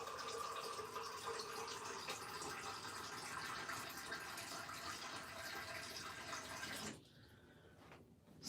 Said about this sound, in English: So now I'm adding the cup of water.